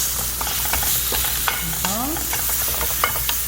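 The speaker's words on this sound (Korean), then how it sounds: "저는 이제 고기부터 볶겠습니다" Meat is stir-fried in oil in a pan, giving a continuous close sizzle broken by repeated scraping and clinking from a spatula, with a brief faint tonal squeak in the middle and no talking.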